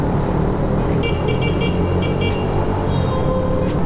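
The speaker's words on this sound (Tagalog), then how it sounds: "kapag dumaan ka sa kahit anong tunnel, bubusina ka at least 3 times" A SYM110 motorcycle sounds its horn inside Kaybiang Tunnel, with several short bright toots over a loud, steady engine and road roar echoing in the enclosed space.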